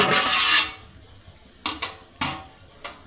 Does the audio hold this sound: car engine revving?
no